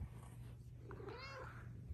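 A pet cat in a home laundry room gives a short rising meow over a steady low purr, close by and fairly quiet, with no talking.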